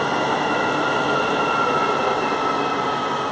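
Pendolino electric train passing at a station in Gdynia, Poland, a loud steady rushing rumble with a faint high whine throughout, heard with no talking.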